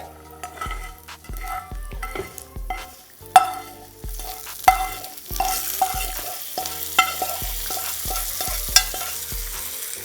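Hot tempering sizzles in a pan while a spoon knocks against the metal in a steady stirring rhythm, up close and without speech.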